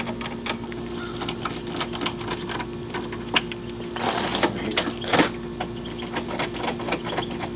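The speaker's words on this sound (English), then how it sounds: "This ratcheting screwdriver by Mega Pro makes it so easy anyway." Mega Pro ratcheting screwdriver clicking while fastening a headlight assembly on a 2009-2018 Dodge Ram 1500, a rapid series of close, sharp ratchet ticks in irregular bursts with a brief scraping rustle partway through.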